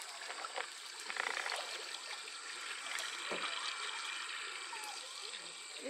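A stream flows outdoors on a trip near Khopoli, a soft continuous rushing and trickling of water at moderate distance with brief voices and handling noises over it.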